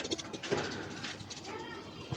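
Soft pigeon coos mixed with rustling and a low murmur of background activity as pigeons are let out of their opened coop door, fairly faint throughout.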